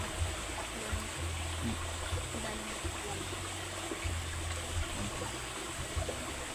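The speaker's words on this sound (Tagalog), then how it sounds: "dito sa Sapa ang lakas ng agos ng tubig." Strong current of a creek rushing downstream, a continuous broadband rush of water close by, steady throughout with a faint low hum beneath.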